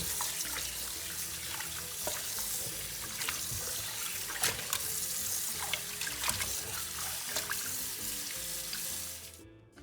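Conch being washed under running tap water in a sink, a continuous splashing stream with small clinks and trickles, steady and close, fading out at the end.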